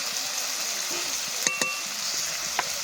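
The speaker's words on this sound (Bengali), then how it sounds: "এবার খুব ভালো করে সব মশলার সাথে কষিয়ে নেব।" Fish curry spices, including coriander powder and salt, frying in a pan for a rohu curry with potato and pointed gourd: a steady, close broadband sizzle with a few brief utensil clinks and no talk.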